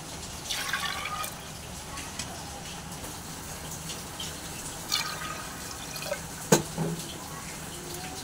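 Water is poured from a glass into a pressure cooker holding potatoes in a home kitchen, giving soft splashes and drips that come in short bursts against a quiet background.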